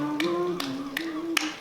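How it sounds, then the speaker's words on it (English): Four sharp, evenly spaced claps tapping out a rhythm during a school stage play, each crisp hit standing above a low sustained tone in the background. "Here, clap it out."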